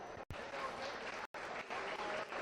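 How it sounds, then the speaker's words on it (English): Crowd applause rises at a livestock swine show for exhibitors of crossbred market gilts, a faint, steady patter of many hands broken by two brief dropouts, with a voice underneath. "Let's make sure they have one more round of applause."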